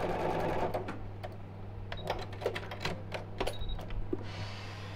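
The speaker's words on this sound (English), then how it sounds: "I'm just going to sew over that so I don't have a gap." A domestic sewing machine stitches across a towelling turban to close a gap. It makes a quiet, close mechanical whirr that runs in short bursts with small clicks between them.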